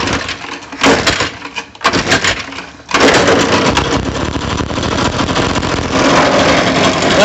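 Echo PB580-T backpack leaf blower engine, freshly repaired with a new carburetor, cranks with a few pull-start attempts, then fires and runs steadily at a loud, close idle with no talk.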